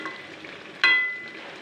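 Chicken cooks in a pan on low heat, a soft continuous sizzle with a sharp clink of a utensil partway through.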